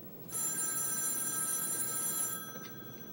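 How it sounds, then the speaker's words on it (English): A telephone bell rings in a small alehouse, one sustained, loud electric ring lasting a couple of seconds before cutting off, heard alone. "all I'm getting is phone calls, people asking me what time we're open"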